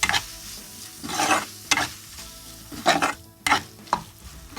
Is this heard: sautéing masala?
yes